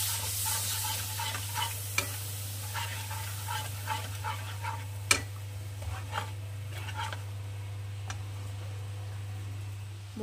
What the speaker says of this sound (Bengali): একটু জল দিয়ে মশলাটা কষাবো